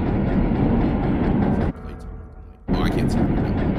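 A tram rumbles along in the video game Resident Evil 2 Remake, a steady heavy roar that drops out briefly and then returns, with a voice speaking over it.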